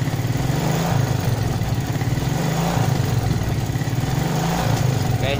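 A motorcycle engine after carburetor adjustment, running steadily at close range with a fast even putter and slight rises in revs, and no clear voice over it.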